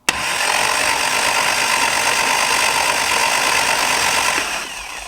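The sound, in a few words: Lotus 7 Birkin engine being cranked over for oil pressure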